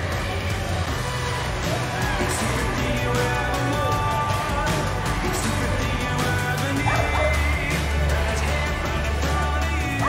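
Several dogs bark and yip intermittently during a dog activity display at the Crufts 2019 dog show, amid a busy crowd murmur, with voices in the background.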